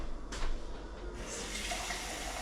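Water pouring into a cooking pot for pampano fish pinangat, a soft, steady splashing stream that builds slightly as it runs, fairly quiet and alone.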